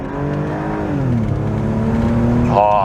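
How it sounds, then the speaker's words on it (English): A BMW 330ci straight-six with a ZF five-speed gearbox revs up during a rev-matched downshift, its engine note sweeping and rising steadily inside the car, loud and close, with a sharper rise near the end. "you're able to rev match downshifts, even right down into first gear, smoothly"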